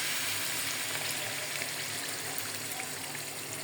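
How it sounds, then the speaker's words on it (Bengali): Chapti, an egg, flour, onion and green chili flatbread, frying in warm oil, giving a steady, even hiss of sizzling with no other sounds. "আর এর তেলটা একটু হালকা গরম হওয়ার পরে আমি চাপটিটা দিয়ে দিচ্ছি।"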